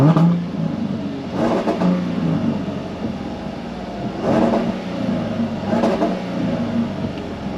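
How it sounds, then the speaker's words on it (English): A Jaguar F-Type V6 (P340) idles close by, then is blipped in three or four short revs spaced a couple of seconds apart, each rising sharply and falling back to idle. "Let's give it a rev."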